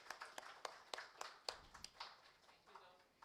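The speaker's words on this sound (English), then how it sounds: "A big round of applause, ladies and gentlemen." Audience clapping at a company listing ceremony for Halder Venture Limited, a run of distinct, fairly quiet claps in an irregular rhythm that thin out toward the end, with a voice talking over them.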